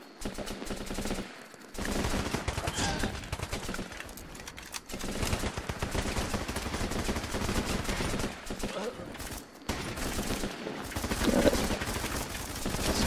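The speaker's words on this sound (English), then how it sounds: "Order my guys to advance there while I'm placing cover fire down for them." Rifle cover fire in the combat game Running With Rifles, dense overlapping bursts of automatic gunfire rattling through most of the stretch, loud and busy with brief lulls and a sharp crack at the end.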